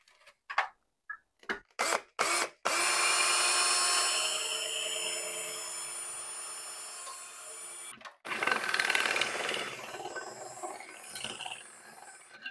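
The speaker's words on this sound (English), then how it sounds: "I'm going to take an ordinary mason jar and I'm going to drill a hole directly in the" A few short taps and knocks, then a power drill whines steadily for several seconds, pauses briefly, and grinds again through a metal mason jar lid, close and loud.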